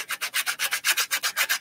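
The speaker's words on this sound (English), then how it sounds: "And I'm just using a sanding block." A sanding block works over a wooden model plane in quick, even back-and-forth strokes, about a dozen rasping passes in a tight steady rhythm, close and alone with no talk.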